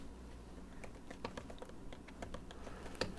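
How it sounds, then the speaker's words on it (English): Quick, light keystrokes tap out a note title on a computer keyboard in an uneven, close-up patter with no talking. "Here is where I would type in the title of my note."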